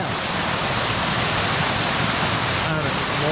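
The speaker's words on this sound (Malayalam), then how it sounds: "ഇതൊരു വെള്ളച്ചാട്ടം." Melaramthattu waterfall, a small roadside fall where travellers collect drinking water, gives a constant loud hiss of falling and splashing water, steady and close for the whole stretch with no break.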